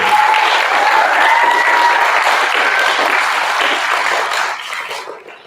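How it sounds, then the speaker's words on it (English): Students at a 4th grade awards assembly applaud their parents with loud, sustained, dense clapping that tapers off over the final second. "students, how about a round of applause for your parents for supporting us this year?"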